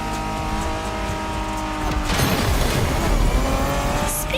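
A Honda NSX sports car engine in the video game The Crew Motorfest revs hard with steady harmonic whine, then surges louder and rougher as it accelerates, close and continuous throughout.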